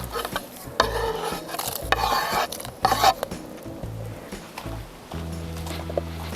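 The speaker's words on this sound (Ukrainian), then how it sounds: "Нарізані гриби вже зараз закладаю в казан." Chopped porcini mushrooms go into a cooking cauldron for a creamy mushroom soup, producing close scraping, rustling and clattering sounds in several bursts, with a quieter stretch near the end.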